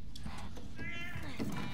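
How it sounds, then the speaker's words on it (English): A cat meows inside the video game The Last of Us: Left Behind, with a short, fairly close cry rising over steady game ambience and background noise. "Calm down, cat. It's just a cat."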